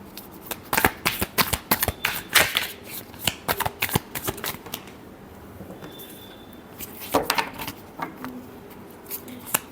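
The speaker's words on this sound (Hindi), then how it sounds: "बहुत सारे कार्ड्स गिर रहे हैं, एक लास्ट शफल करते हैं" Tarot cards being shuffled by hand, a series of quick crisp riffling and slapping bursts that pause briefly midway, then resume, close and clear.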